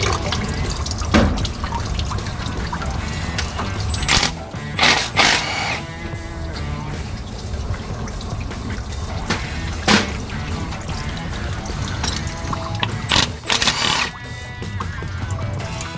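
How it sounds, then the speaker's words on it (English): Coolant drains from a Chrysler 318 engine block, running and dripping steadily for a long stretch, with occasional louder splashes and clanks, close and fairly quiet. "we're draining the blocks for sure"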